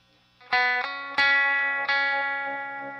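Electric guitar played through a Walrus Slotva pedal set to its filter mode, three strummed chords ringing out one after another with long sustain and a filtered, modulated edge, close and alone.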